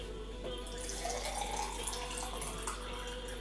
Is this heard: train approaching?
no